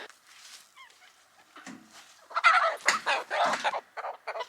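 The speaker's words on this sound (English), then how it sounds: "we can't just leave a silkie laying out here" A small silkie chicken on a farm gives soft clucks and then louder, rapid squawking and agitated calls, close by with no talk.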